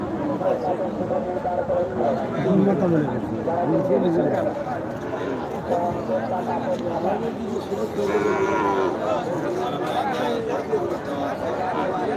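Dairy cows and beef cattle moo repeatedly at a cattle market in a border area, close and loud among the chatter of a busy crowd, with people talking nearby.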